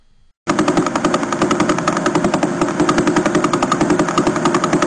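Fast pulsar radio pulses rendered as sound: a rapid, steady stream of sharp clicks, machine-gun-like in rhythm, loud and continuous after a brief quiet start, with no talking.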